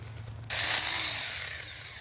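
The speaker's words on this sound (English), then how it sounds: "this is the Saker mini handheld electric battery chainsaw. 6-inch bar and chain." A Saker mini handheld electric battery chainsaw with a 6-inch bar and a chain that has gone over a year without sharpening starts abruptly and whirs at high speed up close, running steadily for over a second and a half.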